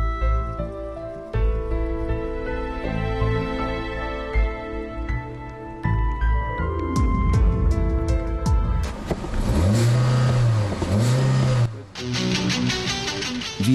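A Seat Ibiza ST with the 105 hp diesel engine accelerating, the engine note building through the gears from a moderate hum to a louder, rising drone with brief shifts between.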